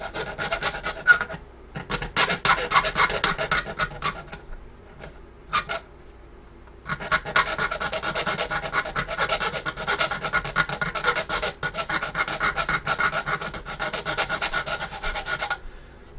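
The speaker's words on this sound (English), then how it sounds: "Now we can go at it with a file and clean it up." Hand file rasping a plastic part of a Revell Yorktown model being converted to the Enterprise, braced on a bench pin; close, loud, continuous scraping strokes in two long bursts with a short pause between, no talking.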